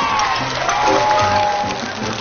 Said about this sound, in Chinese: 快点，掌声在哪里？